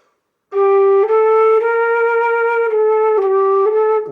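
A flute plays the lullaby Gently Sleep fingered with the wrong thumb key, giving a sadder version of the tune: steady, clear sustained notes that change pitch at a slow pace after half a second of silence, with no voices.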